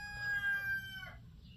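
A rooster crows in one long call with backyard chickens clucking beneath it, close and fairly loud, on a small homestead where chicory is foraged and dried.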